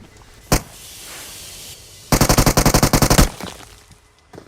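An AKM assault rifle fires in the BGMI mobile shooter game: one sharp shot, a pause, then a loud, rapid burst of about a dozen rounds with a short fading tail and a faint last report.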